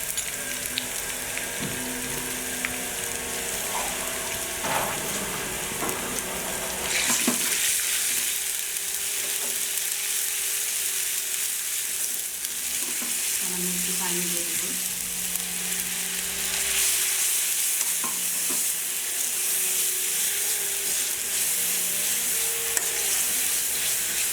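Ginger and garlic paste sautéing in a pan, a continuous loud sizzle with occasional scraping and clinking from stirring, the hiss swelling at times.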